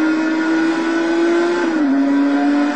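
Loud, steady engine whine of an Esperante GTR-1 race car in the game Total Immersion Racing, holding high revs then dropping slightly in pitch as a gear shifts, close and continuous with no talking.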